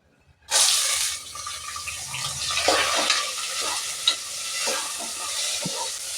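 A bowl of onions goes into a hot pan with kasuri methi for vegetable pulao. A sudden loud sizzle bursts in, then settles into steady frying with repeated stirring scrapes and utensil clinks.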